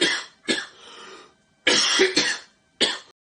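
Several forceful coughs in separate bursts: a pair close together at the start, a longer rough exhale, then two strong coughs and a final short one. They are near and loud, with no talking.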